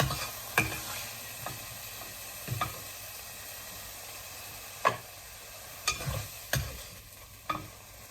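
Mushrooms, carrots and onions stir-fry in a pan with a soft continuous sizzle, broken by several sharp scraping knocks of a utensil stirring them, close and fairly quiet with no talking.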